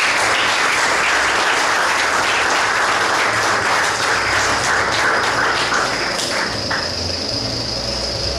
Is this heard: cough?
no